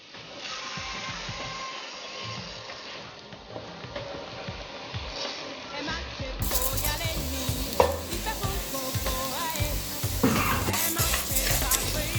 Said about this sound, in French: je vais faire frire le riz avec un peu d'oignon